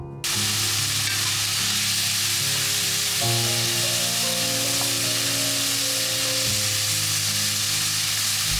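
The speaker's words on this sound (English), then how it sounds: "Then add in the sweet corn and palak and fry it for around 2 to 3 minutes." Sweet corn and palak spinach fry with softened onions in a pan, a steady close sizzle running unbroken beneath quiet background music.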